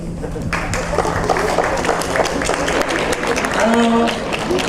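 A crowd aboard the Queen Mary 2 on a transatlantic crossing applauds steadily, dense clapping filling the room, with a voice briefly rising over it near the end.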